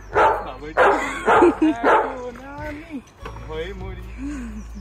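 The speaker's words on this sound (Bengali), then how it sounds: "এখানে একটা কুকুর আসছে।" A dog barks several times in quick bursts close by, with a person talking over and between the barks, outdoors in Stirling, Scotland on Christmas Day.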